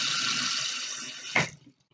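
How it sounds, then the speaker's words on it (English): Dirty water pours down a sink in a steady rushing stream that runs for over a second, then ends with a final splash and a few trailing drips. "Pour the dirty water down the sink."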